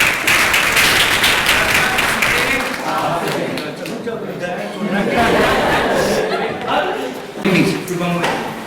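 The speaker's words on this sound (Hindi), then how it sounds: "वैभव के लिए तालियां होनी चाहिए।" A room of seminar participants applauds Vaibhav, dense clapping with chatter and light laughter across the crowd, fading slightly midway before swelling again near the end.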